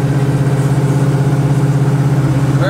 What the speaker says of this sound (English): Very nice running Camaro.